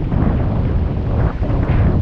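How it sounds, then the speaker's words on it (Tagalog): Strong wind blows along a shore during a northeast monsoon, roaring continuously and buffeting hard with gusty low rumble throughout. "Ang ganito kalakas na hangin."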